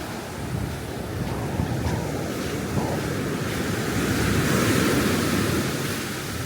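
Ocean surf rolls steadily onto Kamala Beach in Phuket, a continuous broadband wash of breaking waves with wind buffeting the microphone, building slightly louder toward the end, no voices.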